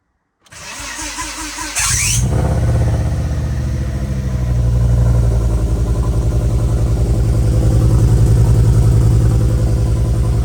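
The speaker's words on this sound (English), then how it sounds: "I can only imagine she's going to sound like a Subaru if she starts" A car engine cranks with a squealing starter, catches after about two seconds, and settles into a loud, steady idle that runs on alone, close by.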